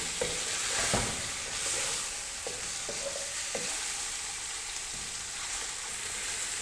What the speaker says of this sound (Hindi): चिकन को हम यहाँ पर भून रहे हैं